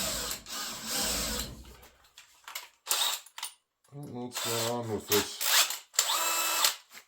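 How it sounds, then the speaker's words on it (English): A power drill whines in bursts drilling four holes into sheet metal, with short pauses between runs and someone speaking briefly in between. "now I'll drill all 4 holes."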